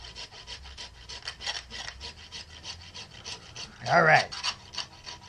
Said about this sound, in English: I'll peel a little bit more wood down with my rasp.